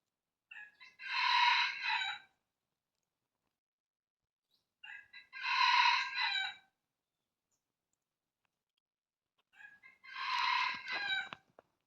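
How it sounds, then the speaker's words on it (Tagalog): A red junglefowl rooster crows three times at steady intervals, each a clipped, strained call, fairly close, with silence between. "Tumitilaok yung labuyo."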